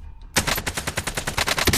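Rapid automatic gunfire in Call of Duty Warzone, a loud sustained burst of shots beginning after a brief quiet moment and rattling on steadily to the end.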